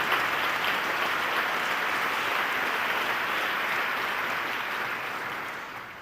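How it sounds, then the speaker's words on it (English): A concert hall audience at a spring youth concert band performance applauds steadily, a dense wash of clapping that holds loud and even for six seconds before easing slightly at the end. "One quick round of applause for you."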